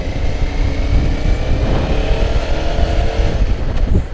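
A motorcycle engine runs steadily up close with a continuous low rumble and a slight shift in pitch partway through, loud throughout with no talking.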